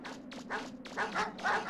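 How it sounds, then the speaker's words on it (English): A wild dog in the MegaMan Legends video game barks in a quick run of about five sharp, close barks, loud and bunched together over a low steady background hum. "Oh, not a friendly dog. Got it. Jeez. Okay, just wild dogs everywhere."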